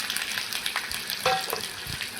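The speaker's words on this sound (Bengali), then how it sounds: "রসুন পেঁয়াজ ভালো করে ভেজে নেব।" Chopped garlic and onion sizzle in hot mustard oil in a wok, a steady close crackle with brief stirring scrapes and no talk.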